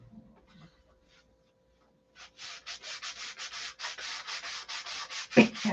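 Sandpaper rubbed by hand on a Sig Magnum model aircraft fuselage part: after a near-silent start, about a dozen steady, rhythmic rasping strokes sound loud and close, ending in a sharper knock.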